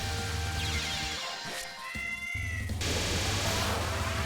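A cat meows in a video game, a couple of rising, wavering cries heard briefly over steady, dense game music and noise.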